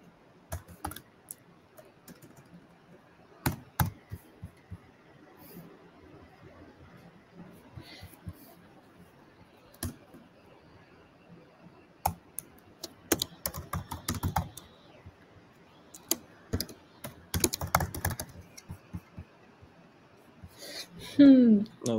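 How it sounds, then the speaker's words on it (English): Bursts of typing on a computer keyboard, uneven clicks coming in clusters with pauses, moderately close, with occasional quiet voices and breaths between the bursts. "you start typing further"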